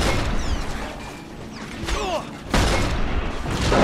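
Video game combat in Resistance 3, with an Auger bullet exploding near an enemy: dense mechanical whooshes and whining sweeps, then a heavier booming crash about halfway through, loud and continuous with no clear talk.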